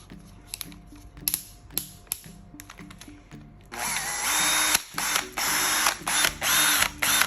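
A Makita DDF453SYE 18V cordless driver drill with a carbon-brush motor whirs loudly and steadily for the last few seconds, after a run of quieter clicks and handling noises, close by with no talking.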